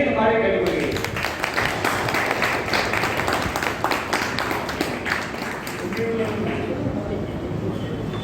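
An assembly of a Madurai district Sanmarga association claps for its office-bearers in sustained, dense applause that runs through the whole stretch with a voice underneath, slightly fading toward the end.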